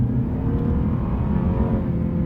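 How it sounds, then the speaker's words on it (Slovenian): The petrol engine of a Lexus RC is revved, a loud, close, steady low-pitched rumble and drone held throughout with no talking. "ta motor je bencinski in sam po sebi nima zdaj neki full jazznega zvoka"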